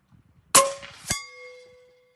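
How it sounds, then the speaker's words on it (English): A pellet from an FX Dynamic .357 air rifle with a 700mm barrel strikes a metal gong, giving one loud bright clang. The ring decays over about a second, and a second metallic hit follows soon after. "We got one in the gong."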